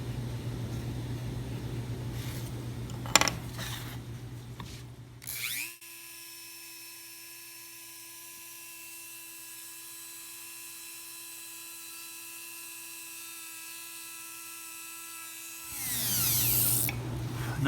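A Dremel rotary tool cutting a freehand wood inlay gives a steady, high-pitched whine that runs for about ten seconds, bracketed by quieter handling noise before it starts and after it stops.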